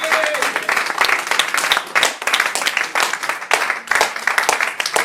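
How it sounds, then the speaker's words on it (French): A church congregation applauds and cheers loudly and continuously during a worship service, dense clapping with raised voices throughout. "je vais t'inviter à acclamer Dieu comme il se doit"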